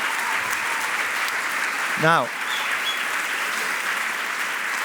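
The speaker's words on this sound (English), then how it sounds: "This is your applause." Conference attendees at an opening session give a steady, even round of applause that continues throughout, broken only by a brief word from a speaker midway.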